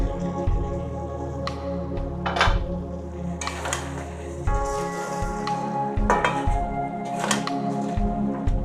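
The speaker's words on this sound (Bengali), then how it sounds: "এবার আমি ঢাকনাটা খুলছি।" A metal lid lifts off a pot of simmering mutton rogan josh with several sharp clanks and scrapes over a steady low hum and light bubbling sizzle, close and fairly loud, with no voices.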